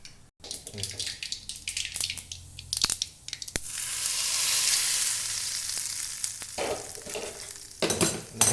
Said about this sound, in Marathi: तर तडक्यासाठी तेल गरम झालेलं आहे आपलं त्याच्यामध्ये मोहरी आणि तुमच्याजवळ जर कढीपत्ता असेल ते एक टाका